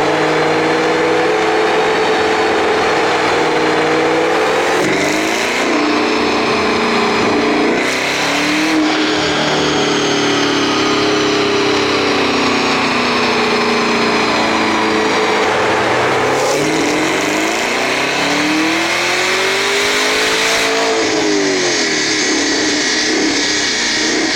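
A powerful car engine roars continuously on a dynamometer, revving up and down in long sweeping pulls at high volume with no speech.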